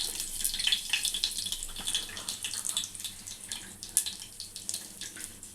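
Mustard seeds splutter in hot oil as the tempering for a Telangana-style fenugreek-leaf and moong dal dish, giving a continuous spray of close, sharp crackling pops with no talking.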